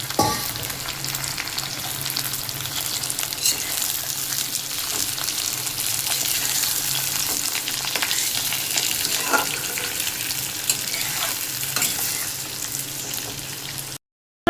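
Potatoes fry in hot oil with five-spice seeds, a steady, close sizzle running unbroken with light crackle and occasional stirring scrapes, then cutting off abruptly near the end.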